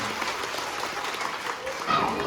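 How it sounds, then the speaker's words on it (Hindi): A crowd at an election campaign rally in Ratgal claps in a thick, continuous wash of applause, with voices and shouts mixed in and a louder swell near the end. "अब जोरदार तालियों से शालू जी का स्वागत करें"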